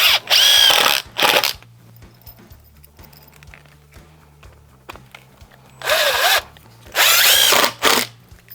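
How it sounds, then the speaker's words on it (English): A power drill drives regular drywall screws into a wooden 2x4 stud in a basement. It makes three loud, close whirring bursts: one long run at the start and two more near the end, with quiet gaps between them and no talking. "I'll be attaching this with screws. I'm just using your regular drywall screws for this process."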